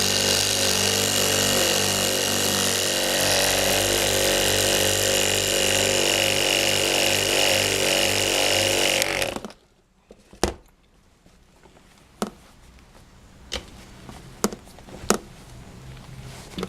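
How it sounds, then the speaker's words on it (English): A Harbor Freight bench buffer runs with a steady, close motor whine as a buffing wheel polishes lower fairing parts from a Yamaha R1, then shuts off abruptly, leaving a few scattered clicks and knocks in a quiet shop. "I want to just run a buffing wheel over them and clean them up"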